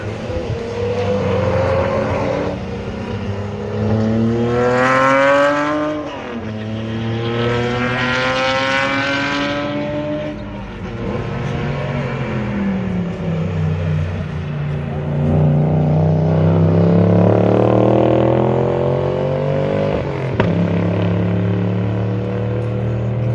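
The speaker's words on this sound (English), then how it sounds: "Here comes Mike and his GTR replica." A GTR replica car drives around a drift track at a GTR festival, its engine revving and rising and falling in pitch through long sweeping accelerations, loud and fairly close with shifting gears.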